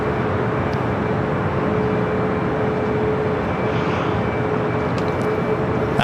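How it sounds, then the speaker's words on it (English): Lufthansa airliner, a Boeing 747 wearing a 1500th sticker, on a go-around at LAX, its engines giving a loud, steady jet roar with a faint whine that holds unbroken throughout, no voices over it. "Holy moly, we're getting the go around."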